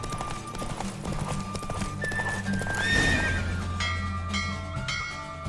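Rapid hoofbeats of a galloping horse in The Witcher 3: Wild Hunt drive steadily beneath a bright musical score, with a horse whinnying partway through.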